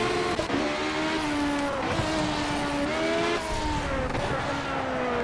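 Car engine in the racing game Project Cars, revving and shifting with pitch sweeps as it drops into first gear, with brief tyre squeal over continuous road noise; loud and close throughout.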